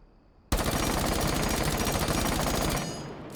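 Rapid automatic gunfire in Rainbow Six Siege starts abruptly and holds as one loud, continuous burst of fast shots for nearly three seconds before tailing off.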